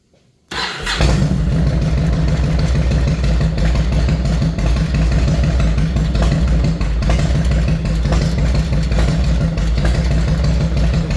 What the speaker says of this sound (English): we're gonna fire this bike up